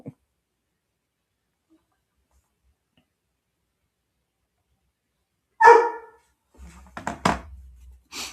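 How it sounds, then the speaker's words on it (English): Pet dogs bark in a short burst after long silence, a single loud bark followed by a quick cluster of sharper yaps nearby, then a faint trailing sound. "My dogs are barking."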